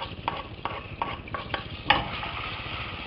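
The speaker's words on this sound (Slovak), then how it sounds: "V druhom hrnci na prípravu risota sme dali roztopiť maslo s olejom. Teraz k nemu pridáme pokrájanú cibulku" Chopped onion frying in melted butter and oil for a risotto, with a steady soft sizzle broken by a few sharp stirring clicks and scrapes in the pot.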